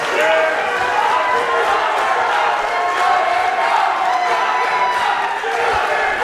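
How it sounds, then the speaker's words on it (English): A pro wrestling crowd roars and cheers in an arena after a match, a loud, continuous wall of cheering, whooping and applause with no break. "Listen to this crowd. This crowd is just, the building is just moving right now, folks."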